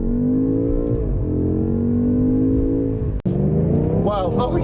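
A 2018 BMW M5 engine under full throttle, a loud, close, sustained roar climbing steadily in pitch, with a brief gap for a gear shift before it surges again as a voice exclaims.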